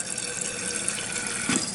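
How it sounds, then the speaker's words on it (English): Toilet tank refilling after a flush through a newly replaced fill valve, a constant hiss of running water close by, briefly louder toward the end, with no voices. "And it's starting to refill."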